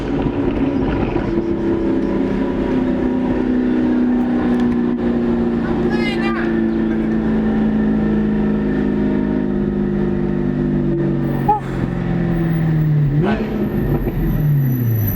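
A custom car from Chicanos Customs revs its engine during a ride-along, rising and falling in pitch close by, with people talking over the steady engine drone.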